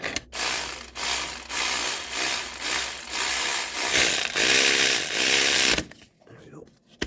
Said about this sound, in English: Gotta get her started first, and then get the wrench on it.